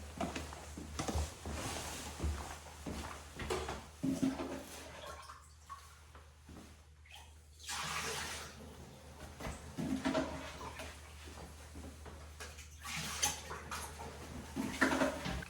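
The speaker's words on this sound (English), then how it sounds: "I'm gonna go ahead and scoop some of that water out by hand" Water is scooped by hand out of a toilet bowl, giving irregular splashes, sloshing and drips close by, with quieter pauses between scoops and no talking.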